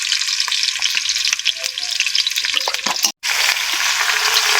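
Garlic and chili fry on a clay stove with a loud, bright, continuous sizzle and crackle, stirred with scattered taps. The sizzle drops out briefly near the end, then returns just as strong.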